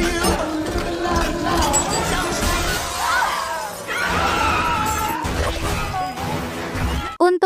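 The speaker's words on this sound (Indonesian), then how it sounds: "Pelan tapi pasti, retakan di lantai kaca semakin melebar." A glass floor cracks and shatters in a film scene, with sustained crackling and breaking debris over a rumbling, chaotic background, ending in a sharp final crash.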